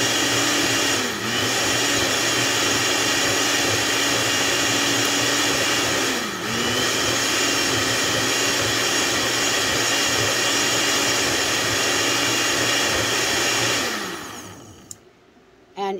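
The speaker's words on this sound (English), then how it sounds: "And what I like to do is pulse. So I pulse until it's all broken up really fine." A blender pulsing oats with its lid on, roaring loudly and steadily with two brief dips in pitch before winding down and stopping near the end, no talking.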